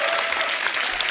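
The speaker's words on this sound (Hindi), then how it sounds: "तालियां बनती हैं" Studio audience applause at a comedy talk show fills the room, a dense, steady wash of clapping at close range with no break.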